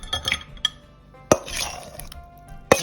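Chunks of chicken marinated in amino soy sauce and pepper dropped into a bowl of batter for orange chicken, giving a few sharp clinks of utensil on bowl and soft wet plops up close.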